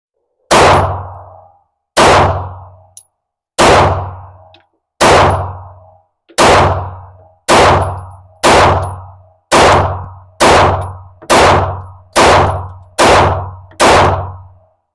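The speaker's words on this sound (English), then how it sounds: "We're going to put a mag in, and we're going to drop it hard and see what happens." A loaded Taurus GX4 pistol dropped hard again and again in a drop test, giving about eleven sharp, loud metallic clangs with short ringing decays, spaced roughly every one to two seconds and coming slightly faster toward the end.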